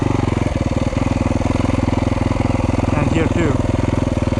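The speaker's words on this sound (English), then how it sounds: "the flywheel is so light, it just revs up like crazy." Yamaha YZ250 two-stroke dirt bike engine running close by in the woods, a steady rapid pulsing drone that swells briefly around the middle, with someone speaking over it.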